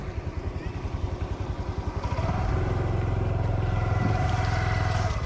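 A motorcycle engine during a riding lesson on a road, first chugging at a low steady putter, then revving up to a louder, sustained drone that holds for several seconds as the bike moves off.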